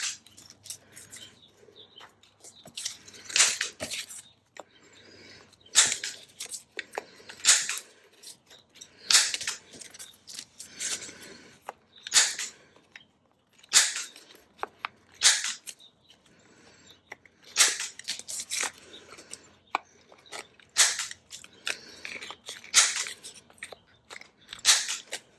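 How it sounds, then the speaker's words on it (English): A hand corner rounder punches the corners of cardstock tags, giving repeated crisp crunching clicks in irregular bursts, close and fairly quiet with brief pauses between groups. "I'm just going to round the corners on them."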